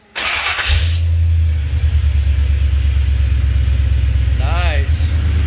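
A V8 LS engine in a buggy cranks and catches, then settles into a deep, steady idle rumble that runs on evenly, close by.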